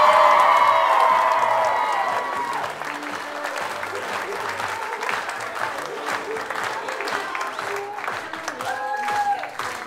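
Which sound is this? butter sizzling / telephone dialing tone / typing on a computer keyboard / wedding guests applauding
wedding guests applauding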